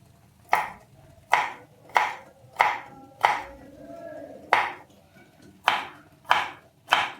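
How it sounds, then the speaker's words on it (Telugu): A knife chops cashews and almonds for shahi tukda, about ten sharp, evenly spaced strikes against a cutting board, close and clear with quiet pauses between them and no talking. "ఇలా కుక్ అయ్యే వరకు ఇప్పుడు మనం కాజు బాదాన్ని కట్ చేద్దాం"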